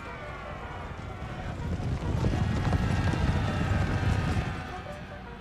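Cavalry horses in the Empire: Total War video game, a rumbling mass of galloping hooves that swells louder midway and then eases, with faint whinnies and battle noise mixed in.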